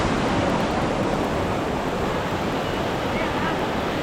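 Water pours steadily at Elephant Falls in Shillong, Meghalaya, a close, loud and continuous rushing wash with no break, heard alone without voices.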